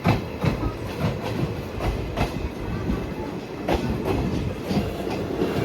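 A Shivamogga–Tumkur passenger train pulling out of Tiptur railway station runs with a steady loud rumble and repeated clickety-clack wheel beats close by, with no voices.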